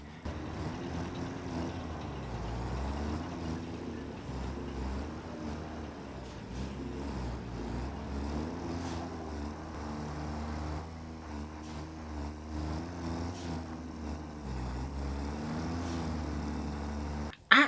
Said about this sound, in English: The system will record a route as you drive along in your truck.